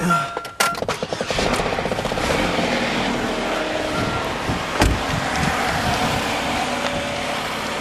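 A 2007 Chevy Cobalt with a 2.2L Ecotec engine with a leaking water pump cranks briefly, catches and settles into a steady idle, heard up close in a shop with a couple of loud knocks partway through.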